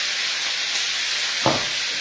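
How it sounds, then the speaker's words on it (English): Blue crab sizzles in hot oil, a steady bright hiss of frying with a short sharp flare of crackle near the end, close and alone without talk. "Hear that sizzle? That's what you want."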